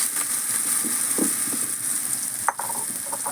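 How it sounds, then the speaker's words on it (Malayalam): Soybean chunks dropped into hot oil, giving a steady, close crackling sizzle throughout with a few brief louder pops and stirring clatters. "അപ്പം നമുക്ക് എണ്ണ ചൂടായിട്ടുണ്ട് നമുക്കിത് ഇട്ട് കൊടുക്കാം"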